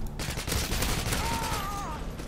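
Gunfire in the video game Call of Duty Modern Warfare 2, a dense, continuous crackle of rapid shots lasting about two seconds, with a short rising whine near the end.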